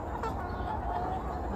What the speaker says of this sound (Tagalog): Oh, mga manok.